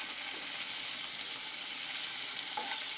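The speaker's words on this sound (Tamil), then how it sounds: "பச்சை மிளகாயும் சேர்த்து நல்லா வதக்கிக்கலாம்." Green chillies and tomato sautéing in a pan for red poha upma, a steady close sizzle and frying hiss with faint stirring, continuous and even throughout with no talk.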